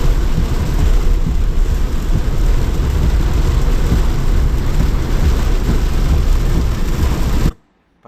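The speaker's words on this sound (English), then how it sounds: "The rain was getting worse and worse." Heavy rain pours down during a bike ride near Key Biscayne in Miami, a loud, dense, unbroken roar that cuts off abruptly at the very end.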